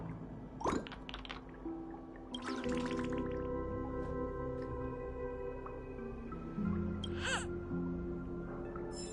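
Birds cawing in the video game Honkai: Star Rail, several harsh calls scattered over a steady game-music backdrop, with occasional dripping and watery sounds, moderately close and with no talking.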